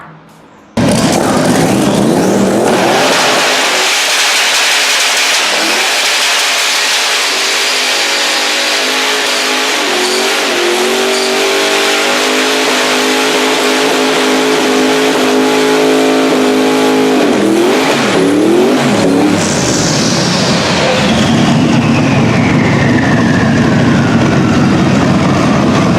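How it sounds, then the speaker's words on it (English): A car doing a burnout: loud, close engine revving with screeching tire noise that rises and holds for about twenty seconds, then pitches shift as the engine winds up again near the end, with no talk. "let's start out by showing a burnout"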